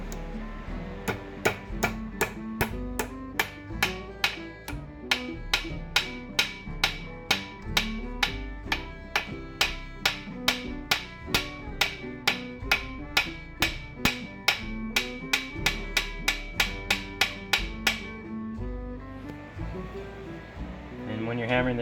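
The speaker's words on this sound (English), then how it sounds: "So you want to hammer these both flat" Steady, evenly spaced metal hammer blows flattening copper cable lugs, dozens of sharp ringing strikes in a fast rhythm that stop abruptly near the end, with a voice talking at times.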